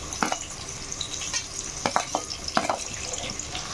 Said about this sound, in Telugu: కడాయి పెట్టుకొని ఆయిల్ వేసుకొని ఆయిల్ బాగా హీట్ అయిన తర్వాత ఉల్లిపాయ ముక్కల్ని పచ్చిమిరపకాయలని వేసుకొని బాగా వేపుకోవాలి